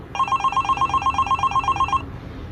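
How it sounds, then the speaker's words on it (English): A hotel room telephone rings close by in a quick, even trill of bell-like pulses for about two seconds, then stops abruptly. "when the phone rang"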